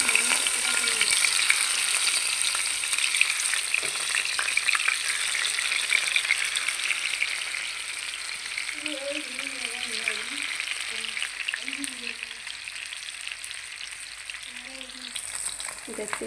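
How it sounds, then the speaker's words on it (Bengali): Pieces of large fish fry crisp in hot oil for a Bengali fish roast, a dense, even sizzle and crackle heard up close throughout, with a voice talking faintly under it in the second half. "আমি মাছগুলোকে মচমচ করে ভেজে নিব।"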